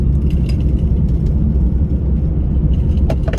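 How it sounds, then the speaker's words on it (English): A car drives off after grocery shopping, its engine and road rumble heard steadily from inside the cabin, with a few faint ticks and clicks over the constant drone. "I'm all loaded up, obviously driving away now"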